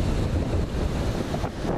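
Ocean waves rolling in from the open sea, a steady broadband wash of surf with heavy wind buffeting the microphone throughout, no voices.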